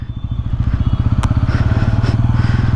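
A Bajaj Pulsar N160 4V motorcycle crawling in gear with the clutch out and no throttle, its single-cylinder engine thumping at a loud, close, steady low rhythm.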